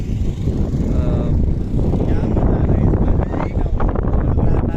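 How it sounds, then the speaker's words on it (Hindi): Strong wind roars steadily across the microphone at high altitude on a Ladakh mountain road between Kargil and Leh. The gusts are loud and continuous and fill the whole clip, with no voices heard. "अभी हम लोग हाइट पे हैं काफ़ी ज़्यादा और बहुत ज़्यादा हवा चल रही है यहाँ पर।"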